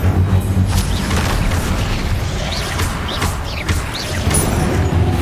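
Confringo fire spell blasting in the video game Hogwarts Legacy: loud, booming bursts and crashes in a dense, continuous combat din, with no talk over it.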